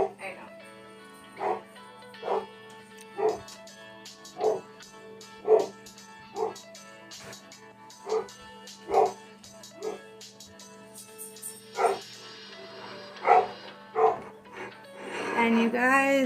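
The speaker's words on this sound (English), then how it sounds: "I apologize, my dog's barking." A dog in a home kitchen barks repeatedly in a steady series of sharp yips, fairly close, with whimpering bursts near the end over a constant low hum.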